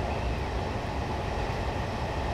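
A Class 40 diesel locomotive idles in Train Simulator 2015 with a steady, dense rumble and faint rhythmic clatter, continuous and close, without talk.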